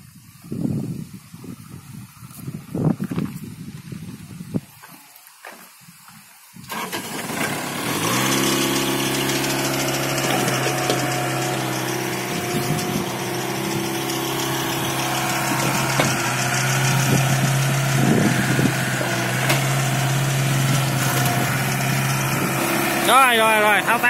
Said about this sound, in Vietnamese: Em trai nổ máy giùm em trai ơi. Nổ máy để cho